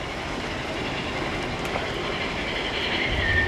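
Big Thunder Mountain Railroad runaway mine train at Disneyland rumbling steadily past, a continuous loud rail roar with faint wheel squeal near the end.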